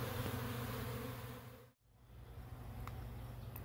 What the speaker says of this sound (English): Still keeping our eye on the hive. It is crazy busy right now.